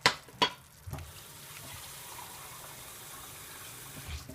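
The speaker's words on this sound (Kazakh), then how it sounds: "Осынша су құямыз" Water pours steadily into a pot of meat and potatoes for a braise, a continuous close splashing wash after a couple of sharp knocks at the start.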